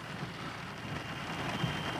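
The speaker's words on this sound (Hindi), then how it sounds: "बारिश आ गई, आफत आ गई" Steady rain falls on a farmers' protest camp at the Delhi-UP border in cold weather, a continuous hiss of drops on surfaces, even and moderately loud with no voices.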